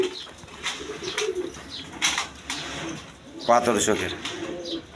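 A lively, big-sized pigeon coos in low throaty bursts, while wings flap in short rustling flurries and someone talks nearby, all heard close up.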